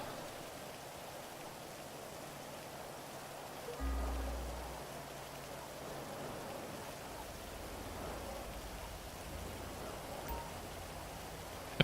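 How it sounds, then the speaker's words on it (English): Heavy rain in GTA Online pours as a continuous dense hiss, steady and enveloping throughout, with a brief low rumble partway through. "I put on rain. I didn't expect it to be this much rain."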